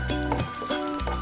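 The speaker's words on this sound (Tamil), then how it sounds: "இந்த பருப்பும் தனியாவும் லேசாக ரோஸ்ட் ஆகணும்" Lentils and coriander seeds dry roasting in a pan give a soft, continuous crackling sizzle with faint stirring, close and steady, with no voices.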